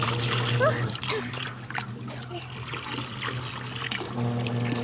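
Water splashes and sloshes in a basin close by as a child bathes in it, with a steady hum underneath and a voice speaking now and then.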